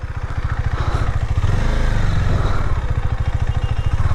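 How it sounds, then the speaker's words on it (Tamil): A motorcycle engine on a hill road in the Kolli Hills runs loud and close with a steady, throbbing pulse that swells slightly midway, heard alone without talk. "வருது வண்டி வருது, ஏதோ ஒரு வண்டி சவுண்டு கேட்குது"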